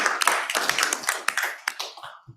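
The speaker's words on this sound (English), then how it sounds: "That does deserve a round of applause" A small crowd at a city council meeting claps for about two seconds, a close, scattered patter of hands that fades out quickly.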